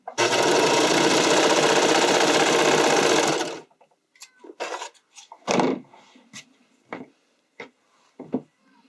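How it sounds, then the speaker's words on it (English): A sewing machine runs in one loud, steady burst of about three and a half seconds, stitching through two layers of spandex and two of lining along a bodysuit shoulder strap. Scattered clicks and handling knocks follow without voices. "I'm going to sew the top of the shoulder strap"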